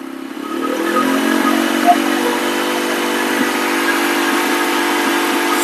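A motorbike engine idling around 1500 RPM, then revved, holds a steady, loud, close drone with a rising buzzy tone throughout, continuous with no talking.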